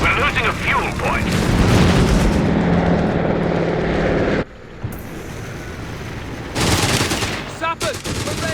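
Bursts of gunfire and heavy booms from a Company of Heroes 3 battle between Matilda tanks and flak guns, loud and dense, with a brief lull midway before the firing resumes, mixed with game voice callouts.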